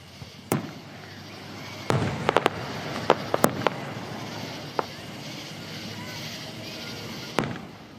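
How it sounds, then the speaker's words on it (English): Fireworks at an annual July 3rd Independence Day celebration at Lake Benson in Garner: scattered sharp booms and crackling bursts, some in quick clusters, heard from a distance over steady crowd murmur and outdoor ambience. "Last night, there was an impressive fireworks show you can see for yourself."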